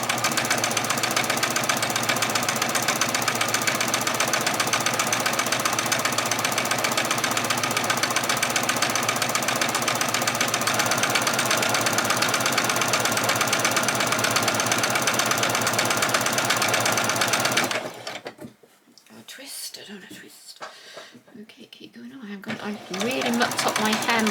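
A domestic sewing machine runs a continuous straight stitch around the edge of a ruffle fabric piece, a steady buzzing whir for most of the span before stopping abruptly, leaving quieter handling noises.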